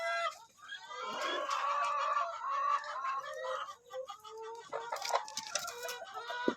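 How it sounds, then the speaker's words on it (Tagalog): Five-month-old Dominant CZ hens cluck and cackle close by at their nest in a backyard coop, a busy run of loud, warbling fowl calls with sharper squawks near the end. "habang nagpapakain tayo ng mga 5-month-old natin na mga dominant CZ, meron tayo napansin dito sa pugad nila"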